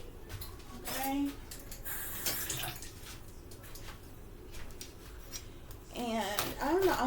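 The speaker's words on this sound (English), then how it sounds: "Of course, we're going to rinse that off." Cabbage rinsed under a running kitchen tap, a soft steady wash of water with small splashes and handling sounds, faint, and a voice speaking briefly.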